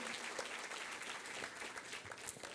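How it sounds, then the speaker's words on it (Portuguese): A church congregation applauds, many hands clapping in a dense, steady patter heard at moderate distance and fairly faint, with no voices over it. "Vamos dar uma salva de palmas com alegria a Jesus."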